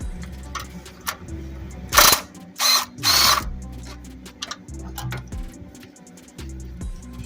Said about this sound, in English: I'm gonna get these last two bolts off